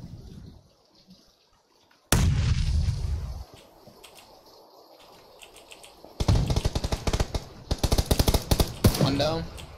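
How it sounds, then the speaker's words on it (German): A grenade goes off in PUBG with a sudden loud blast and rumbling tail, followed later by rapid bursts of automatic gunfire, while players talk over the game. "Granate."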